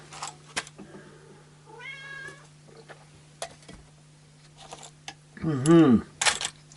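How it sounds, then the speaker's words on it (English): An indoor cat meows twice, a brief cry followed later by a longer, louder wavering call, over a steady low hum, with scattered light clicks and handling noises. "You're a very good outdoor huntery cat."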